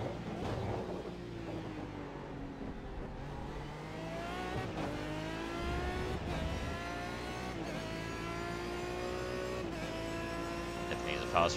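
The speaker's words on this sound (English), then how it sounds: "The Corvette just comes barreling in like an absolute freight train with the hairpins." A Corvette race car at Donington barrels past with a deep roaring engine, pitch sweeping as it accelerates and shifts through several gear changes, loud and close alongside another engine's drone.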